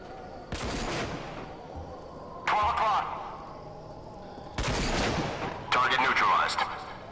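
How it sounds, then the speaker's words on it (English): Sniper rifle fire in the video game RAGE: four loud, separate shots, each with a sharp crack and a lingering rumble, spaced unevenly over a low background hum. "Sniper rifle."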